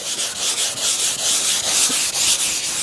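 Steady, rhythmic sanding of a 1960s rosewood table, with quick back-and-forth strokes that rasp loudly and continuously from close by.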